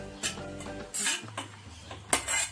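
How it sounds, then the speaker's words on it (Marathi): Grated coconut is dry-roasted and stirred in a pan, with a spoon scraping and clinking against the metal in short, uneven strokes. The sound is fairly quiet, with no speech. "आपण चांगलं भाजत आले आता खोबरं"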